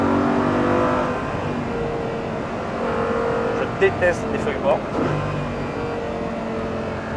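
Audi R8 GT with a V10 engine revving on a track, a steady loud engine drone running throughout with brief rising pulls, under someone talking over it.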